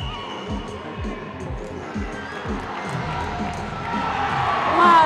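Supporters at an amateur charity football match in Telese Terme, a crowd cheering and shouting at a distance over rhythmic thudding footsteps, with the cheering swelling louder toward the end.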